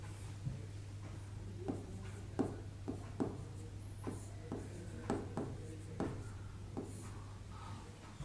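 Chalk or marker strokes on a board as names are written during a Hindi grammar lesson: a series of quick, irregular taps and scratches, close and quiet over a low steady hum.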